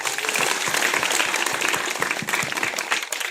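A large crowd at a public speech event bursts into sustained, dense applause, loud and steady throughout before easing slightly at the end.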